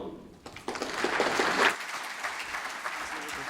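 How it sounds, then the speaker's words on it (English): Applause from a lecture audience, a dense steady clapping that swells and then continues evenly. "Okay, stop clapping, everybody."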